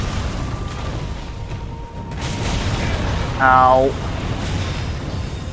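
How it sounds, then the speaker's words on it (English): A boss's fiery explosion attacks in Dark Souls 3, a deep boom and rumbling fire with a bright ringing burst midway, under a brief spoken exclamation. "All of his attacks have a either an explosion or a plume of fire that follow"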